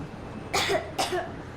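A character in the game Metro Exodus coughs twice in quick succession, two short close rough bursts over a quiet background.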